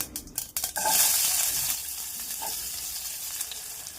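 Chopped onion dropped into hot tempering oil with mustard seeds for tomato curry, a few sharp spatters and stirring clinks at the start, then a steady, close sizzle.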